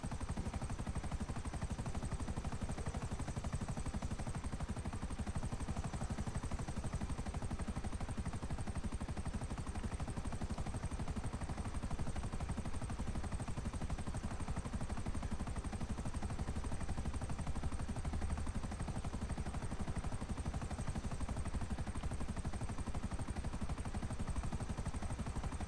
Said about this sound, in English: so I'm going to use the chopper.